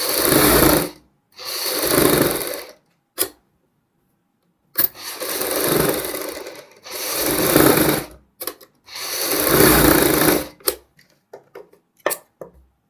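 A sewing machine stitches piping along a kurti neckline, running in several short bursts of steady whirring broken by silences and a few isolated clicks, heard close with no talk.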